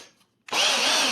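A Hart 20V cordless drill fitted with a Makita trigger sits silent, then spins up abruptly into a loud, steady, high whine that holds to the end.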